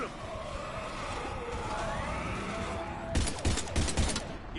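Gunfire in the video game Mass Effect 3, a rapid burst of close, loud shots rattling out in the last second and a half after a rumbling combat backdrop, with voices shouting in the mix.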